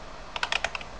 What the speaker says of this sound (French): tu écris titre de ces photos